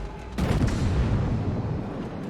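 A heavy naval gun salvo from a Z52 destroyer in a warship game, one sharp boom followed by a long rolling rumble that fades slowly.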